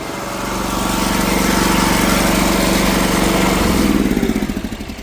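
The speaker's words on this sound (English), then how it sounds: "Kill the motor." Motor of a hay bale wrapping machine used on barley bales, running loud and steady close by, a droning engine that begins to wind down near the end.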